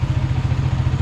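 A motorcycle engine keeps idling after riding through flood water on a submerged rural road, a loud, steady, close-up low chugging throb.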